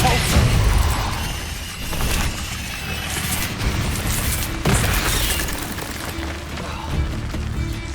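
Casting the Repulsor spell in the Hogwarts Legacy video game brings heavy booming blasts and splintering impacts amid dense combat noise, with sharp hits near the start and around the middle.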